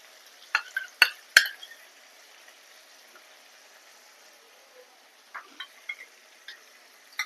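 Hilsa fish korma fries gently in released oil, a faint quiet sizzle punctuated by a few sharp spoon knocks against the pan early on and scattered lighter stirring clicks later.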